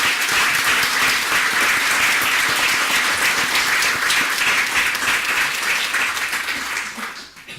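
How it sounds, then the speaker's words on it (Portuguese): Audience at an academy project presentation session in Lisbon gives sustained applause, a dense even clatter of many hands that holds loud and then tapers off at the end. "E por isso para ele também uma especial salva de palmas por todo o trabalho"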